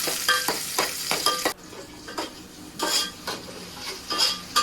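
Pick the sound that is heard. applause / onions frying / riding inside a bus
onions frying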